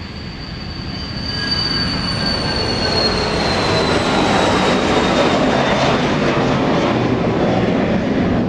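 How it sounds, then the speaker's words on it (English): A JSX jet plane in special livery at Dallas Love Field on a rainy morning, a steady loud roar of engine noise with a whining tone, continuous and close throughout. "Comes that special livery JSX plane"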